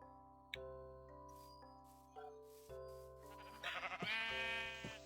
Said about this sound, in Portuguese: Matar uma ovelha aqui.